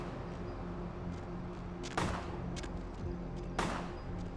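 Gunshots crack inside a parking garage in Vampire: The Masquerade – Bloodlines, two sharp echoing reports about a second and a half apart, with fainter pops between them over a steady low hum, somewhat distant.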